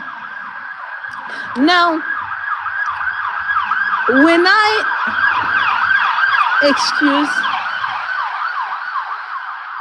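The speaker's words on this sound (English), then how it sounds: "the police vehicle that passed with the siren" A passing police car siren wails in rapid repeating rises and falls, loud and close, with a person speaking over it in short bursts.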